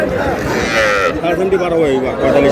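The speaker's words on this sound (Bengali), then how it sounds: "ষাঁড় বাচ্চা" Cattle, including young bulls and heifer calves, low in drawn-out, overlapping moos close by at Aftabganj livestock market, with a busy murmur of people and livestock around them.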